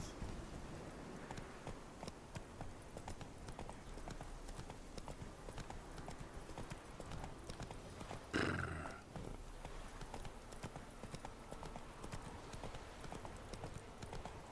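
Horse hooves clip-clop steadily in a video game, a continuous rhythmic trot throughout, with a brief louder burst near the middle and occasional neighing.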